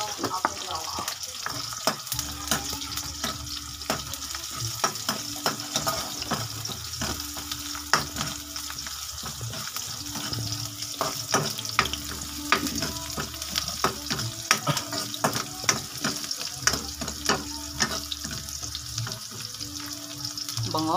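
Mung beans sauté in a hot pan with a continuous sizzle and frying hiss, broken by frequent sharp scrapes and clinks of stirring, close and fairly loud.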